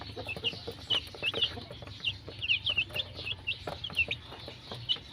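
Young chicks cluck and peep in a steady stream of short, high calls, close by and moderately loud over a low background hum.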